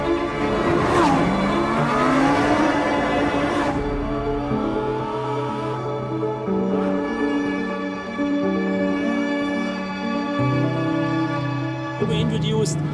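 A Lamborghini Huracan Sterrato drives and drifts on gravel, its engine note rising and falling steadily with continuous road and tire noise throughout, fairly loud and close, with music playing alongside.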